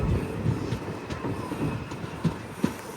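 The Repalle Express (17645) rolls into Ghatkesar station running 36 minutes late, its wheels clattering in a steady rhythmic clickety-clack beneath a continuous rumble, heard from close by.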